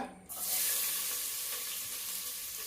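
Chopped onion sizzling in hot ghee for ghee rice, a steady close frying hiss that swells in after a brief quiet start and holds throughout, with no talking.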